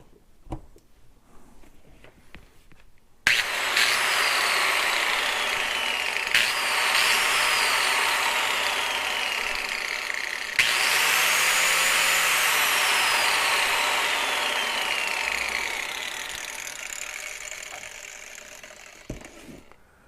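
An electric grinder plugged in during an arc fault breaker test whines up loudly and close, winds down with a falling pitch, then restarts twice more before finally spinning down to near silence.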